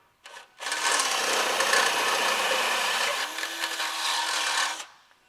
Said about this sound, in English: So we're gonna drill that out to 3/8 inch, and we're gonna install a rivet nut